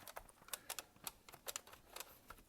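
Key presses on a Soviet Kvant (Quantum) computer keyboard, a quiet irregular series of sharp clicks and clacks, about a dozen in a couple of seconds, close up with no voices.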